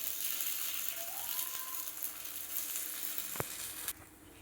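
Masala kuzhi paniyaram batter with stuffing sizzles in a paniyaram pan, a steady close hiss running throughout, broken by a short utensil click and a sharp tap near the end.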